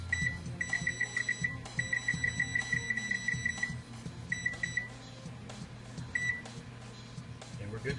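A kitchen timer being set for muffins gives off clusters of rapid, high electronic beeps in short bursts and a few single chirps, up close over a steady low background hum.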